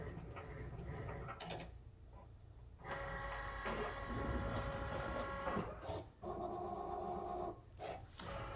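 A Cricut cutting machine works through red cardstock, with a motorized whirring carriage that starts, pauses and sweeps back and forth in bursts, close and moderately quiet.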